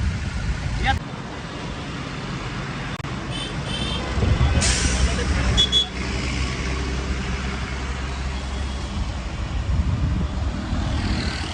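Overloaded dumper trucks loaded with stone pass along a road in Wagholi, Pune, producing a steady low engine rumble and road noise, with people talking over the traffic.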